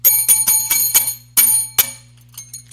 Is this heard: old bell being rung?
yes